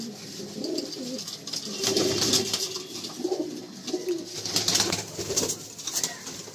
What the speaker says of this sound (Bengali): মাদি সেকশনেও প্রচুর লাল পায়রা আছে